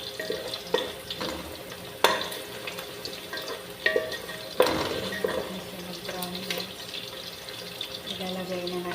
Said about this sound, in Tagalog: Malapit na mag-brown ang sibuyas.